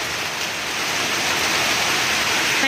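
Heavy rain pours steadily and close by as a dense, unbroken roar, with no thunder standing out in the wash of water.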